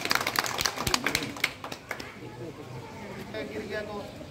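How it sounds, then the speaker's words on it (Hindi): An audience claps at an NDRF mock drill, a burst of loud sharp claps that thins out and fades after a couple of seconds, leaving quieter background murmur. "ताली बजाइए"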